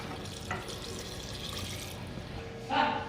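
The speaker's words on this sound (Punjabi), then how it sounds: "ਹੁਣ ਆਪਾਂ ਇਹਦੇ ਵਿੱਚ ਪਾਣੀ ਐਡ ਕਰਾਂਗੇ" Quiet running water pours steadily into a pressure cooker holding raw mangoes, with a louder splashing gush near the end.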